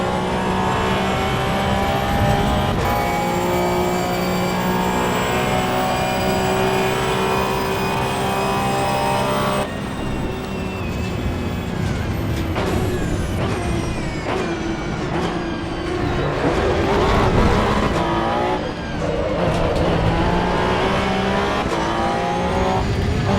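Race car engine in the Assetto Corsa EVO video game, a loud, continuous high-revving drone that climbs and drops through gear changes, with braking and acceleration shifts throughout and no voices.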